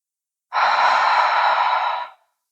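A single long, breathy exhale through the mouth during a chest-mobility breathing exercise, close and clear, lasting about a second and a half before stopping abruptly into silence.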